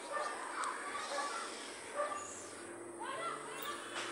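A dog at the neighbouring house barks in short, repeated bursts from a distance, faint against outdoor garden ambience with a voice nearby.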